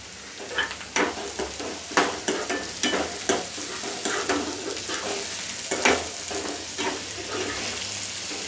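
Tomatoes for zhunka sautéing in a pan, with a spatula scraping and stirring in irregular strokes over a steady close sizzle; no voices.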